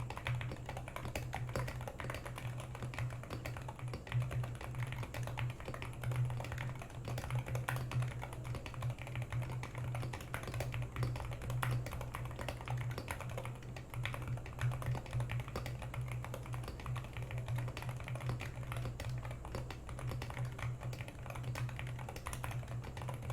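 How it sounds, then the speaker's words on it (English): Steady, continuous typing on a Wooting 60 HE mechanical keyboard fitted with new keycaps, a dense stream of quiet clacky keystrokes heard close up for over twenty seconds under a low constant hum, with no speech. "I'm going to do a sound test with this one. New keycap sound test."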